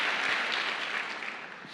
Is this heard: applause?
yes